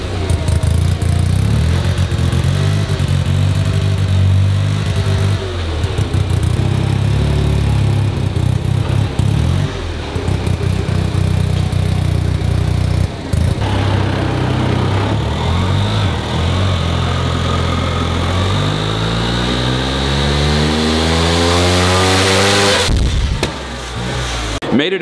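A single-rotor rotary engine car runs loudly on a dyno, droning and surging unevenly before a long sweeping rev climb near the end that cuts off abruptly.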